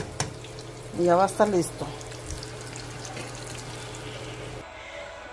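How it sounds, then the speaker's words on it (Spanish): Water pours into a pot of soup aguada on the stove while potato tacos are being cooked, a continuous hissing wash that runs most of the way. A voice speaks briefly early on. "Ahora sí, le agrego el agua y lo tapo."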